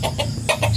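A chicken clucks close by, a few quick short clucks in a brief burst.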